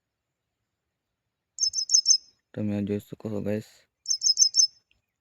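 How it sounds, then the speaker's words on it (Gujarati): A sparrow perched in a cotton field gives two quick bursts of bright chirps, separated by a short stretch of nearby speech, in otherwise quiet open air. "મસ્ત ચકલી છે અહીંયા બેઠેલી"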